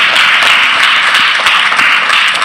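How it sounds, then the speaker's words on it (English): Audience clapping at a business leadership summit, a dense sustained wash of many hands filling the whole stretch at steady loudness, with no voices over it. "We clap for that."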